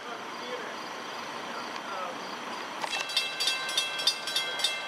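A Long Island Rail Road commuter train rumbles into a station at night steadily, then a faint, regular clatter of wheels over rail joints builds as it draws near.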